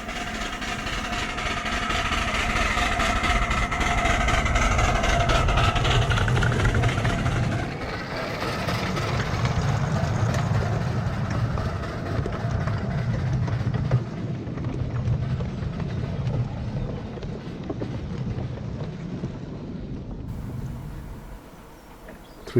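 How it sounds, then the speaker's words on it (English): A miniature railway train of three locomotives, three coaches and a brake van runs past on 7¼-inch track, a loud steady rumble with clattering wheels that swells and then fades. "3 locos, 3 coaches and a brake van."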